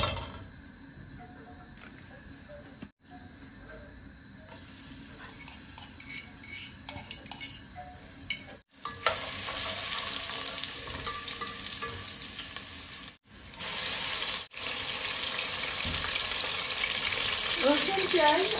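Garlic, onion and two green chillies frying in hot oil for a Sylheti olive khatta with fish roe, a loud, continuous sizzle with metal utensil scraping and clinking against the pot, briefly cut by silent gaps.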